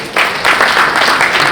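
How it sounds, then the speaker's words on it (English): An audience at a Graceworld Foundation charity event applauds. The clapping is dense and steady and holds at an even level for the whole short stretch. "Yes, clap for God for that."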